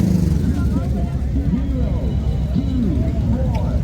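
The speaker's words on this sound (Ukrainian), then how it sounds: "Теж цікава машинка покидає автошоу. Ось такий джипик виїжджає." A small jeep drives out of an outdoor car show, its low engine rumble steady and close while a person talks over it.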